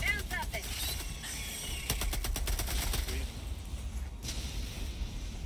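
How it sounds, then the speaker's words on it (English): Rapid automatic gunfire and explosive bursts from a barrage in the video game Helldivers, sustained and fairly close, with a dense rattling volley in the middle and voices talking over the fighting. "Dude, that barrage is still going off."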